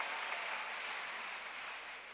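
A congregation clapping their hands at a church gospel service, a steady, fairly faint wash of clapping with no speech over it.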